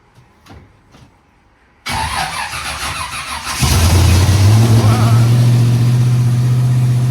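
A 3000hp vehicle's engine, primed with three throttle pumps, cranks and fires after a few clicks, roaring loud and close then settling into a deep, steady rumbling idle.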